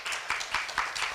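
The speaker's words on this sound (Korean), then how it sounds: "손 한번 박수 한번 쳐주십시오" Brief scattered clapping from a university cultural festival audience at Korea University, a few hands striking in loose rhythm, moderately faint and alone without talk.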